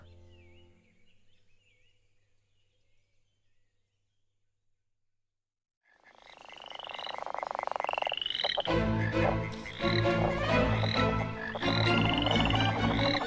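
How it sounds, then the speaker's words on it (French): Frogs croak in a loud, dense chorus of rhythmic calls that starts abruptly after several seconds of near silence and keeps going to the end, with no talking. "Les pluies de grenouilles."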